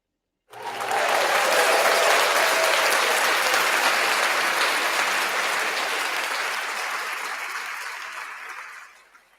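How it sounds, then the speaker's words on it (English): An applause sound effect plays through newly set-up audio gear, a crowd's clapping that starts abruptly, holds at a full steady roar for several seconds, then tapers and cuts off. "Did you hear that clapping come through?"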